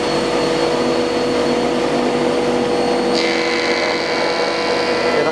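An Axminster AT260SPT spiral planer thicknesser drones loudly and steadily up close, and partway through a higher whine joins in as the board feeds through the cutter.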